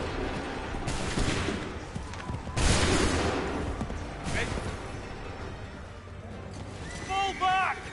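Massed musket volleys crack out in Assassin's Creed 3, with broad bursts of gunfire around the first and third seconds amid a noisy battlefield din, while shouted voices and distant horse hooves carry through the scene.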